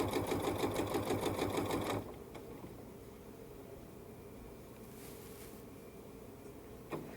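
A sewing machine runs in a fast, steady stitching burst while sewing down the side of quilt blocks, then stops abruptly, leaving quiet room tone.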